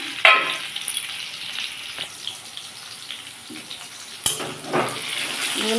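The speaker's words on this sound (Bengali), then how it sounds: "আলুটা অনেকটাই ভাজা হয়ে গেছে" Potatoes and tomatoes for a cabbage curry with lentils fry in a pan with a soft continuous sizzle, broken by a few louder clinks and stirring scrapes, with no talking.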